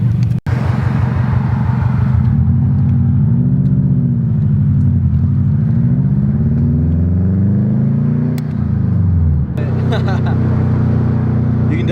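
A Subaru STI engine drones loudly from inside the car, its pitch rising and falling through the revs with a sharp shift near the end, while people talk over it.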